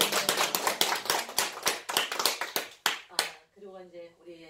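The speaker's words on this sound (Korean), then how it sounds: "네, 우리 박수 한번 시장님, 쳐주세요." A town-hall audience in Nampyeong, Naju, claps for the mayor, giving a series of close, sharp handclaps in an uneven rhythm that stop abruptly, followed by a voice speaking.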